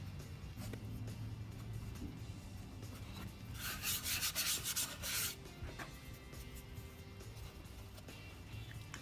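Dried wood putty on a wooden birdhouse is lightly sanded, a faint, soft rubbing that swells into a brief brighter scratchy burst midway and then settles back into quiet background noise.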